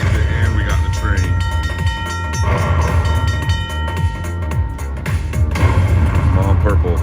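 A Railroad Riches slot machine plays its train bonus effect, with a rumbling locomotive, horn-like tones and chiming game music sounding loudly over the casino floor while people talk.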